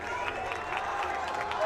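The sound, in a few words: football crowd cheering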